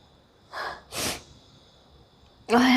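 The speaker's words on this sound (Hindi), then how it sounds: "क्योंकि अब मुझे छींक आ गई तो हो सकता है कि इससे आ जाए।" A woman tickles her nose with an earbud and gives two short, sharp, breathy sneezes close to the microphone, then speaks briefly afterward.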